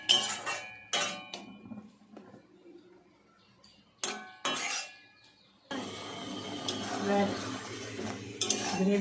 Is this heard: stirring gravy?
yes